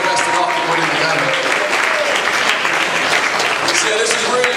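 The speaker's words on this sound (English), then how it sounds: "We can give a huge round of applause just for Nathan in his absence" A large audience at a high school awards ceremony claps and cheers for an absent student, a loud, dense, sustained round of applause lasting the whole moment.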